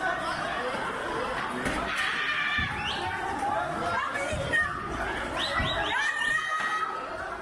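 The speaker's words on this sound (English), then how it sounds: "That is the sound of a Tops bottle store being looted in Elsie's River over Easter weekend." Crowd noise from a Tops bottle store being looted in Elsie's River over Easter weekend: a dense, continuous din of chatter, shouts and scattered laughter, with occasional thuds and clatters throughout.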